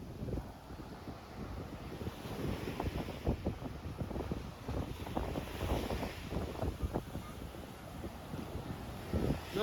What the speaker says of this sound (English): The wind calmed down a bit, so that's great.